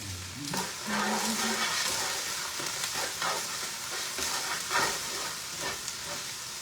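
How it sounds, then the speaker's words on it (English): Onions sauté in oil for beef stroganoff, a steady close sizzle with repeated scraping stirs of a utensil across the pan and no talking. "now we're just going to add in our onions"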